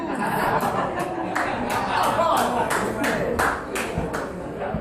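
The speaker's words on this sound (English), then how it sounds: "Why are you clapping over that?" Clapping at a bar comedy show, with distinct claps falling in a steady rhythm of about two per second, close and clear over crowd chatter and some laughter.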